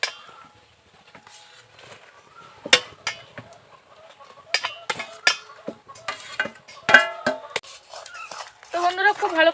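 A spoon stirs grated coconut into boiling jaggery in a pot with scattered sharp clinks and scrapes against the metal, mixed with a person talking throughout.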